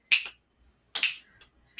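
A few quiet finger snaps, two crisp clicks spaced apart followed by a softer pair, close by with silence between.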